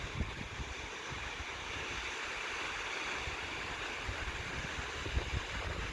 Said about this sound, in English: And it's the tallest two-tier waterfall I know in New York.